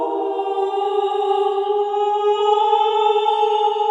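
Sustained synthetic choir chord from the Alto Evos virtual choir on a dark prism setting with randomized textures, a steady layered vocal drone holding a stable pitch cluster, clean and fairly loud with no talking.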